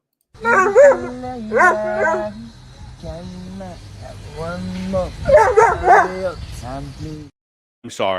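A dog barks, yips and whimpers in a played recording, loud and close in several bursts, mixed with howl-like vocal tones, before cutting off abruptly.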